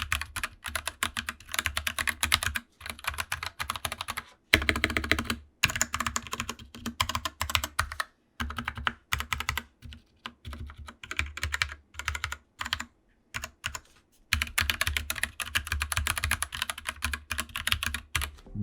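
Typing on an Anne Pro 2 wireless 60% keyboard with Gateron Brown switches gives close, crisp, rapid key clacks in bursts separated by short pauses, with no talking.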